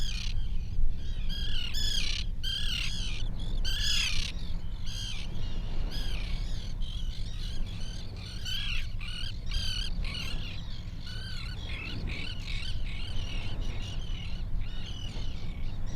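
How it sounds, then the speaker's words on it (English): A flock of common terns at a coastal staging area on Cape Cod calling constantly, harsh overlapping squawks and rasping cries from many birds at middle distance over a steady low rumble. "Most of the birds that we're seeing in the flocks are common terns."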